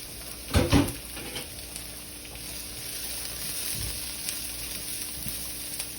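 Ginger and garlic dropped into hot oil in a pan, a brief burst of crackling at first that settles into a soft, steady sizzle with light stirring.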